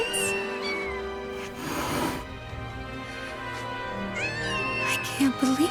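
Kittens meowing in Final Fantasy 7 Rebirth, several high, wavering mews at close range set against game music, with a character's voice speaking between the cries.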